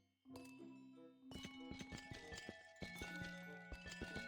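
Bright, bell-like crystal chimes ring out in a quick cluster of overlapping tinkling tones, each note shimmering briefly before the next, with no talking.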